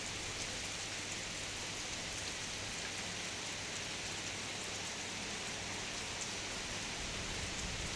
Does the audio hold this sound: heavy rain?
yes